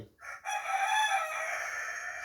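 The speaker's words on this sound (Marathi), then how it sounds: "ते कोंबडं काय म्हणते सारखं" A rooster crows once in a long, loud, drawn-out call that holds steady and then fades slightly, with no talking.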